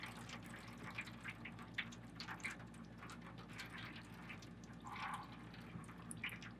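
Coolant draining from a Harley Twin Cooled motorcycle with both caps open up top: a faint, steady trickle and dripping of liquid, quiet and close, continuing throughout with small splashes.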